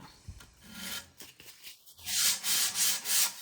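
Wooden window sash profiles are hand sanded to strip paint, with close, scratchy rubbing strokes that start soft and irregular, then settle into four louder, even back-and-forth passes.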